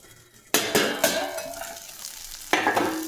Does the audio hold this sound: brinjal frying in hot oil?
yes